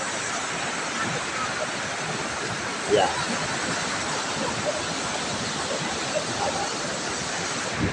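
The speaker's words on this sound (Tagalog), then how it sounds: "Hindi ko alam kung paano ako maliligo, pero ang lakas ng alon" Strong ocean waves at a beach in Zambales roar as a steady, dense wash of surf under wind noise, with a brief voice heard once.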